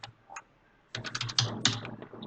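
Code being typed on a computer keyboard: a couple of isolated clicks, a short pause, then a rapid flurry of close, crisp keystrokes with a few louder taps, no talking.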